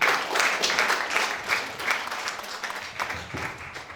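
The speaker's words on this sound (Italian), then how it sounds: "vi dedico un applauso grande" An audience claps steadily for several seconds in a hall, a dense, even patter of many hands at moderate loudness with no talking over it.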